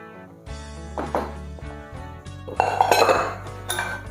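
Veal blanquette with carrots and leeks is stirred in a metal pan, giving close clinks and scrapes of a utensil against the cookware, a few distinct knocks followed by a busier burst of clattering.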